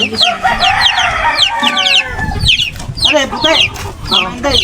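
Chickens cluck loudly and close in rapid bursts, with a rooster crowing in between, while people talk over the birds.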